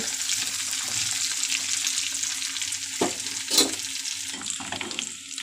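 Spicy village-style chicken frying in a pan, a steady close sizzle with occasional scraping stirs and a few louder clatters of the spoon, no voices.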